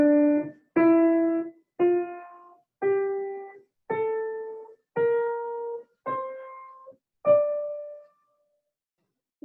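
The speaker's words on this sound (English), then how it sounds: "Here is the natural minor scale." Eight separate pitched notes of a natural minor scale climb one by one from the tonic to the high tonic at a steady pace. Each tone starts sharply and fades quickly before the next, clean and alone.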